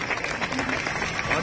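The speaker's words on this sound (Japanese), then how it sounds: "大きな拍手でお送り ください。" Brief burst of crowd applause at a boat race victory ceremony at Edogawa, a short dense patch of clapping under a noisy outdoor ambience with some voice present.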